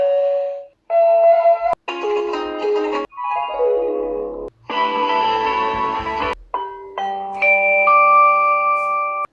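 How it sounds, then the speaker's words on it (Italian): Ezviz HP7 2K video intercom doorbell previewing a series of electronic ringtones: loud tonal chimes and melodic beeps in successive segments with brief pauses between them, clear and close, with no talk. "se far suonare il campanello, se avere la suoneria nello schermo"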